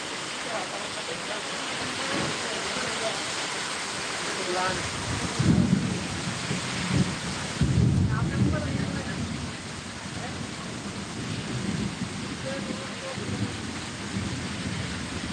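Rain falls steadily in a constant wash of noise, with low rumbles of thunder rolling through in the middle.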